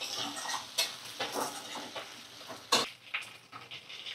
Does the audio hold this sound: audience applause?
no